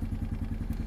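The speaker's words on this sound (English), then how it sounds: "that's all the higher I can lift this plow with the four-wheeler" A Honda Foreman ATV idles with a rhythmic, throbbing low chug while holding a raised Cycle Country snow plow, close and steady through the short moment.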